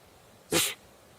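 A human voice imitates a wolf's bark, delivering one short, loud, breathy huff close up, alone against quiet background.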